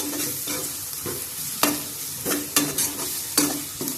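Ground spices frying in a pan for radish paratha filling, a continuous sizzle broken by several sharp scraping stirs of the spoon against the pan, close and clear with no talking.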